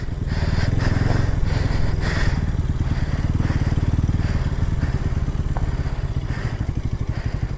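A motorbike engine runs loud and close on a hill trail near Ramanagara, its steady chugging rumble with rattles and thumps continuing for several seconds as it moves along.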